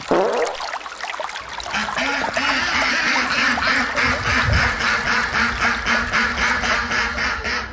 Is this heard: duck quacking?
yes